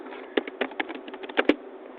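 Fingers tap out a quick, uneven run of keystrokes on a computer keyboard, close and crisp, with a few harder presses standing out among the lighter clicks; no talking.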